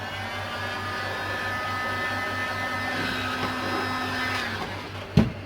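Heat gun blowing hot air onto glued tolex vinyl, a steady whirring hiss with a faint whine running close and unbroken, ending with a brief clunk as it cuts off.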